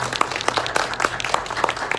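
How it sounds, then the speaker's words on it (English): Audience applause at a pageant homecoming press conference at a hotel, a short burst of moderate clapping from a small crowd with distinct individual claps audible. "So let's give a round of applause to Maria."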